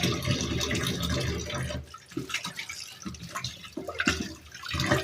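Water runs and splashes steadily while fish is washed by hand, with some irregular dripping and sloshing near the end.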